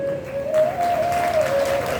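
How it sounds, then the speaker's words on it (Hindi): An audience at a Hindi religious discourse claps together. The applause is dense and continuous and runs alongside a steady sustained tone. "आप एक ताली पहले आप इन सभी लोगों के लिए बजाओ।"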